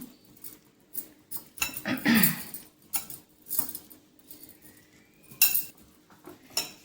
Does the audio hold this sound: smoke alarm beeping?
no